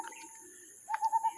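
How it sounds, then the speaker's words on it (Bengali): A bird calls near dawn with a short run of three or four clear, evenly spaced notes. A brief faint sound comes first, then a quiet pause before the notes. "কি সুন্দর পাখির ডাক।"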